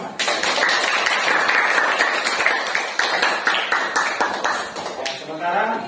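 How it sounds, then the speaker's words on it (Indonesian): Classroom applause from students clapping together, a dense steady patter of many hands that fades out near the end, close and fairly loud. "Tepuk tangan untuk kita semua."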